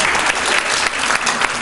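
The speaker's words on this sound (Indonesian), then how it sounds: "Terima kasih tepuk tangan untuk Tuhan" Church congregation clapping in steady, dense applause that fills the whole short moment, loud and close, with no talk over it.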